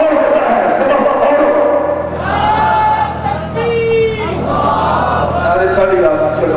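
A crowd at a religious gathering (jalsa) in Gujranwala chants slogans: many voices rise together in loud, ragged surges and swell in the middle before settling back into a broad, continuous roar.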